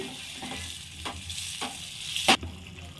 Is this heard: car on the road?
no